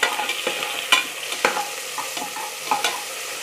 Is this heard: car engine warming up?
no